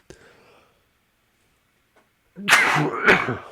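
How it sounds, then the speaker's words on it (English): After a faint breath and near silence, a sudden close sneeze bursts out, followed quickly by a second one. "I got the sneezes."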